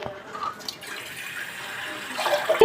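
Water is poured while making puttu, a steady splashing trickle of moderate loudness that swells toward the end with a few sharp clinks of a plate or vessel.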